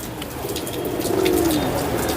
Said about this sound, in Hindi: ये है जी एक फ़िरोज़पुरी कबूतर जो प्योर हालत में